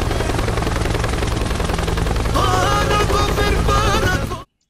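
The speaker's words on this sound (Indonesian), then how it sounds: "Helikopter, helikopter." A toy helicopter buzzes loudly with rapid, steady rotor chopping and a whirring electronic tone, continuous until it cuts off abruptly.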